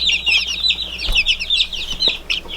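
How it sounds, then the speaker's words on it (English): Buff Brahma and buff Orpington bantam chicks, young and growing, chirp and cluck busily in a steady overlapping stream, fairly close, with a faint low hum beneath. "So the buff Brahmas and the buff Orpington bantams are hanging out."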